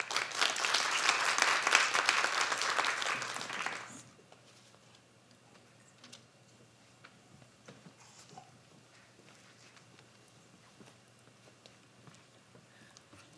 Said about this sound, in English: I'd like to give another round of applause